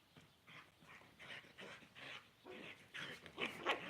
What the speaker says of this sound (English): the dogs always want to play and roughhouse when I'm out here